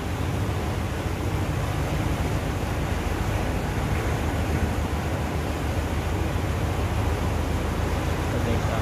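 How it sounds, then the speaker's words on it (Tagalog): A calm sea washes near a long bridge, a constant loud broadband rush of surf mixed with heavy wind buffeting the microphone, steady with no distinct breaks. "Tahimik na tahimik ang dagat ngayon"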